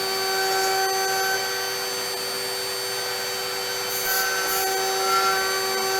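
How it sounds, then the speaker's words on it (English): CNC router with a variable-speed spindle and solid carbide bit cutting a wood inlay pocket, a loud steady high whine with tonal hum and occasional brighter chip-spray bursts, nothing else heard. "Using a solid carbide"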